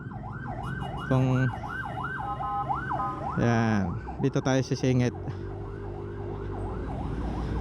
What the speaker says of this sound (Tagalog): so mayroong ambulansya sa likod